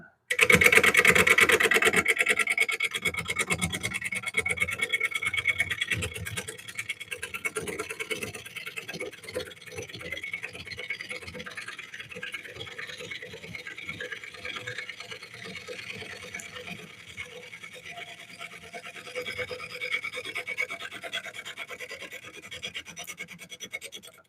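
Steady whirring drone of a wood lathe spinning a blank that may be black walnut at higher speed, with continuous scraping and rasping of a tool against the turning wood throughout.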